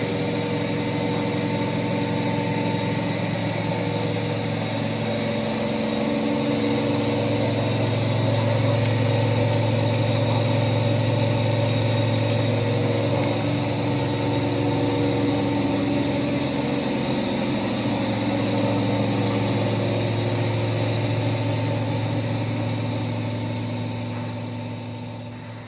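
A small rug and carpet centrifuge for car-wash sites spins steadily, giving a loud, even mechanical hum with a low drone that swells slightly and then eases over about 25 seconds.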